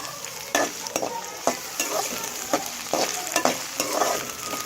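Onion and tomato fry on a slow flame, giving an even soft sizzle that is cut by regular scraping strokes of a spoon through the pan, about one each second.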